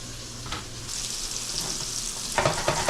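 Sausage meat frying in olive oil in a pan, a steady close sizzle with soft scraping as the pieces are broken up and stirred, a few sharper utensil knocks near the end.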